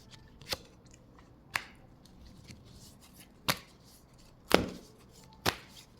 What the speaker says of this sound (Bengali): চলো আগে কার্ডগুলো তো নিয়ে নেই